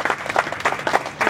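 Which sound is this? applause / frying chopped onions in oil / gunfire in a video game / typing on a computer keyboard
applause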